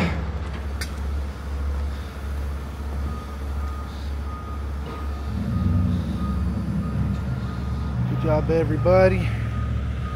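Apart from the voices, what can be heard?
truck reversing with beeps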